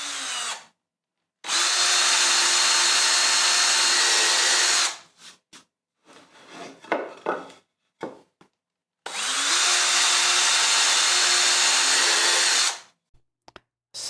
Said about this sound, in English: drill those two holes completely through the front drawer face